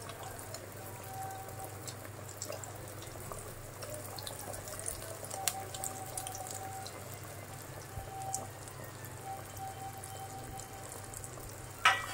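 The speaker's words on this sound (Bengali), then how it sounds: "এবার বাকিগুলো ভেজে ফেলবো।" Food frying in a pan in a home kitchen makes a soft, even crackle and sizzle, quiet and close, with an occasional sharper pop or tap.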